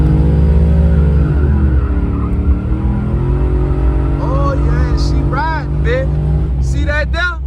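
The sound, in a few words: Chevy 408 stroker car accelerating from a standstill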